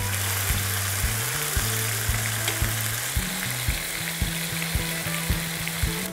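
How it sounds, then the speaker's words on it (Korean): Meat stir-fries in a hot pan for gochu japchae, giving a loud, steady sizzle with repeated rhythmic scraping and clacking of a utensil against the pan throughout. "지금 엉겨 붙었기 때문에 좀 고기를 풀어주셔서 고기를 튀기듯이"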